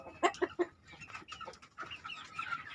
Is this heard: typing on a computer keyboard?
no